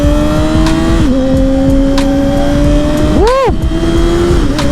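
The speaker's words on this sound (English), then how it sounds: "The R6 definitely sounds louder." A Yamaha R6 motorcycle with a cut exhaust roars loud and close, holding a steady rev before a sharp throttle blip that rises and falls, with a brief shout from a rider.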